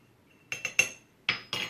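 A metal measuring spoon tapping and clinking against a bowl while ground cumin is added, about five short, bright clinks in two clusters over a quiet background.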